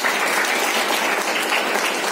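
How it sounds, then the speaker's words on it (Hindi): Sustained applause from an audience at a breast cancer awareness camp at a school, greeting a doctor, steady dense clapping filling the whole moment without pause. "ये डॉक्टर के लिए तालियां होनी चाहिए।"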